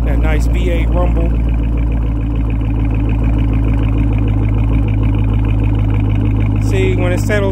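A 2013 Chevy Camaro ZL1 V8 settles into a steady, deep idle rumble that holds evenly throughout, close and fairly loud, with speech heard over it at the start and end.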